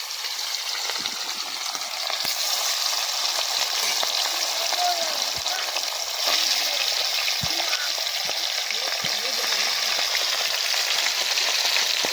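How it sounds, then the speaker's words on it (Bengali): A second batch of hilsa fish fries in a pan outdoors in a jungle setting, with a steady, dense sizzle close by and scattered pops and stirring knocks throughout. "দ্বিতীয় খোলার মাছগুলো এবার আমরা ভেজে নেব।"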